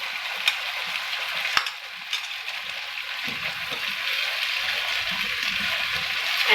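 Potato bhujia frying in a pan gives off a soft, steady sizzle and crackle after yogurt goes in, with a few sharp clinks near the start and no voices.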